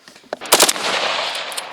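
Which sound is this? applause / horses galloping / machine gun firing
machine gun firing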